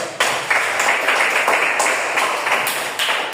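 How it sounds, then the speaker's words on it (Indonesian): Students clap their hands together in a classroom, a lively burst of brisk, slightly uneven claps carried close and loud from start to finish with no talking. "tepuk tangan kalian"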